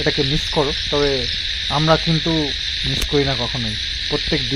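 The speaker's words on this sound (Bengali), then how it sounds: "ঝিঝি পোকার ডাক" Crickets chirp steadily through a night scene by a pond, a dense, continuous high trill running the whole time beneath a man's conversational speech.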